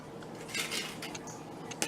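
A spoon scraping and clinking in a dish while spreading blackberry cobbler mixture with syrup, a few light metallic taps and scrapes close by, no voices.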